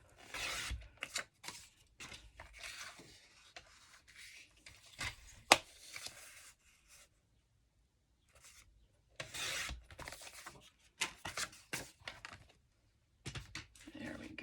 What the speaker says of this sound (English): So I'll just use my cutter for this.